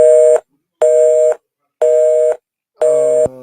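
A telephone busy signal after the caller hangs up: four steady, loud electronic tones about half a second each, evenly spaced with silent gaps, the last ending in a click.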